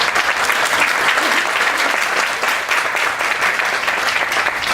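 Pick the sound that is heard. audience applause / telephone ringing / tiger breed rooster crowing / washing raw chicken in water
audience applause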